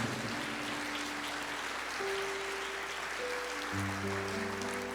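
A church congregation at a Peruvian anniversary service gives a sustained round of applause, a steady, dense wash of clapping under held keyboard or organ tones.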